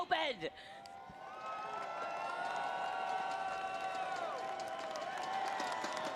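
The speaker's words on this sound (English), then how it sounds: "Crowd's getting into it today" An arena crowd at an ALGS Open esports watch party cheers and claps in a sustained roar of voices, faint and distant throughout.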